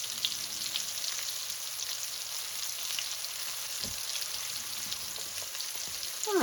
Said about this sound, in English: we've been cooking them about 3 minutes right now